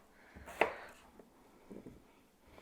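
A knife chops through yellow Yukon Gold potatoes on a board: one sharp, clear cut followed by a couple of softer taps, close and fairly quiet.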